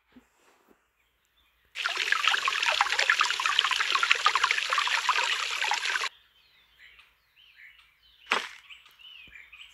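Water pouring onto a plant in the Talking Booba mobile game, a bright splashing stream that starts abruptly, runs steadily for about four seconds and cuts off, followed by a quiet stretch with a short sharp effect and soft game sounds.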